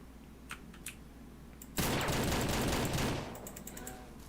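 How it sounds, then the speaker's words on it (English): Burst of rapid gunfire in the Ranch Simulator game, a loud dense volley lasting over a second after a quiet stretch, then easing into fainter shots and ambience. "Why did you shoot straight up in the air, you idiot?"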